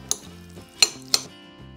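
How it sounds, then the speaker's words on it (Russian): Cabbage salad seasoned with ground black pepper and salt being tossed in a bowl: three sharp utensil clinks against the dish, spaced about half a second apart, with quiet mixing rustle between them and no voices. "Перемешиваем салат."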